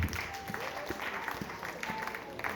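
A church congregation claps together during a service, a dense, steady patter of many hands filling the room, with voices mixed in beneath the applause.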